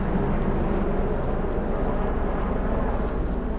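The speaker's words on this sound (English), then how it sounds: "Lots of helicopters today." Helicopters flying over the Bronx in New York City, a steady low droning rotor rumble that fills the background evenly and continuously, moderately loud with no talk.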